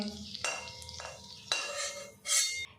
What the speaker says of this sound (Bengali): সামান্য একটু তালের মিশ্রণ দিয়ে দেখব। দেখুন দিতে মাত্রই কিন্তু ভেসে উঠেছে।